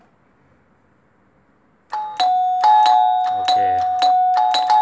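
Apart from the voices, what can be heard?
old electric doorbell ringing during house wiring test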